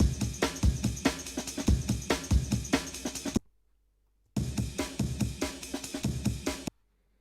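Chopped drum break loop sequenced in Ableton Live for a 140 jungle track, crisp breakbeat hits in a busy rhythm, played twice with a short silent gap between the two passes.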